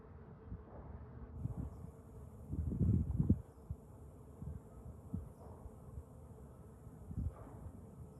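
Bee buzzing around a plant outdoors, a faint low hum that comes and goes, swelling closer and louder for a moment midway, with soft rustling and a steady high background tone.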